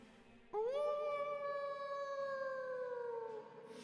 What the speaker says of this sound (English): You hear a howl from the base of the hills.